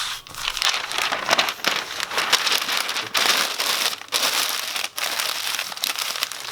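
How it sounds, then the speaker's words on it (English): Sheets of newspaper crumpled into a ball for an ornament craft: a continuous, close crinkling and crushing of paper with a few brief pauses, no voices. "It's really easy as simply just balling up newspaper."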